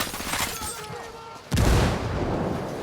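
A frag grenade explosion in Ghost Recon Wildlands booms suddenly and loudly after a stretch of game sound and talk, followed by a sustained roar of gunfire and debris.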